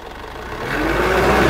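Engine of a Mitsubishi Pajero turning over and settling into a steady run, a broad mechanical rumble and whir that swells slightly louder over a second and a half, close by and alone.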